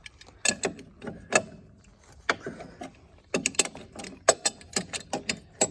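A big wrench ratcheting on a 1960 Case 310 crawler during lower roller work: quick bursts of metallic clicks in several close, fairly faint runs separated by short pauses, with no talking.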